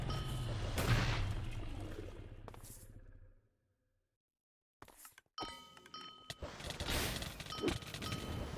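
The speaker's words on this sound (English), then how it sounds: "explosions and chomp and digging noises" Explosions go off during a Wynncraft raid in Minecraft as bursts of booming game noise. A sudden drop to near silence follows, then sharper blasts and thuds return.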